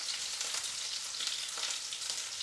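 Shrimp frying in oil for grain-free crispy honey shrimp, a steady close sizzle with crackling pops throughout, no voices.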